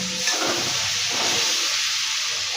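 Chicken biryani masala with a little chilli sizzles and hisses steadily in a pan while it is stirred, a close, continuous frying sound with light scraping and no voices.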